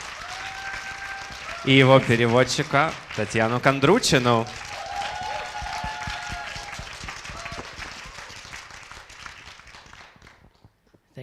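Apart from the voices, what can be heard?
applause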